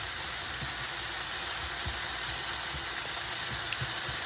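Philly cheesesteak meat fries on a griddle with a constant, loud hiss and sizzle, broken by occasional faint pops and spatula taps.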